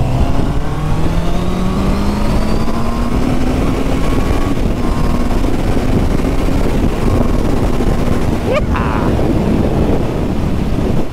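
A Honda CB650R four-cylinder motorcycle engine revs while riding on a fast road, its pitch climbing steadily as it winds up, under loud constant wind buffeting on the microphone, with a brief sharp sweep near the end.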